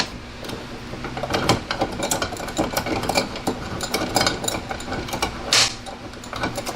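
A RIDGID 18-volt compact cordless band saw cutting through 10 gauge metal, a steady close mechanical whir with gritty grinding and rattling texture running the full length, loud and continuous with no talking.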